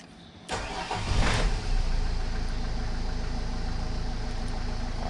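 A 2014 Vauxhall Vivaro van with a MAP sensor fault cranks and fires into a steady, close idle that holds evenly after the start, with no talk over it.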